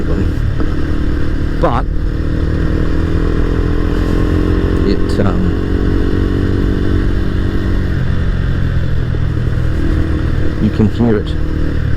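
A small single-cylinder motorcycle with a louder, freer-breathing exhaust drones steadily and close throughout, partly under someone talking, with brief clatters and wind-like rumble on the road.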